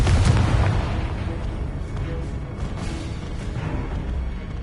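A Confringo blast spell fires in the Hogwarts Legacy video game, opening with a loud booming burst that settles into a sustained rumbling crackle lasting several seconds, with no talk over it.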